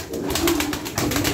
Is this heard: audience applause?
no